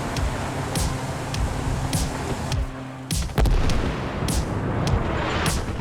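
Artillery bombardment in the war video game Armored Brigade II, with sharp blasts and booming impacts bursting over a constant rumble of battle, one heavy close hit near the middle standing out above the rest.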